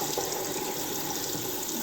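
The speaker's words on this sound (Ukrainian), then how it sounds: "хочу ще долити трошечки туди води розбавити, щоб не був кипяток" Hot water runs steadily from a tap into a bowl to dilute a steam-bath mixture while making a dessert, a continuous close splashing rush with no talk.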